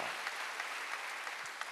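A church congregation at a Wednesday worship service claps together, a steady, fairly soft patter of many hands with no voices over it.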